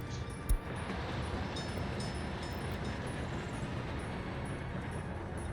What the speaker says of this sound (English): this train here is unloading steel